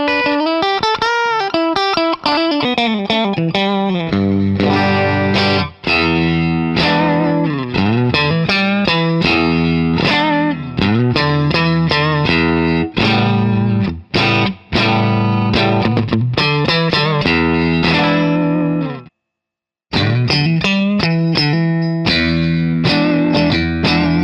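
Electric guitar, a Fender Stratocaster fitted with a humbucker and wired like a Telecaster, plays loud distorted riffs and chords with chorus-like modulation, strummed in choppy rhythmic bursts, briefly stopping near the end before resuming.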